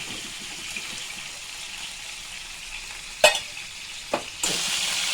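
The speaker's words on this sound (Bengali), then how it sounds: "পটলটা আমার ভাজা হয়ে গেছে, একদম নরম হয়ে গেছে ভাজা।" Soft pointed gourd (potol) frying in oil in a pan: a steady background sizzle with a couple of sharp utensil knocks, then a louder burst of hissing near the end, with no talk.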